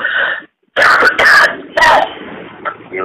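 A person coughs and clears their throat in several harsh, close bursts separated by short pauses.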